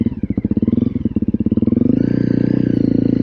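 A Honda CRF 300L motorcycle idles with a distinct single-cylinder thump, then the engine climbs in pitch as it is ridden off, close and loud with no talking.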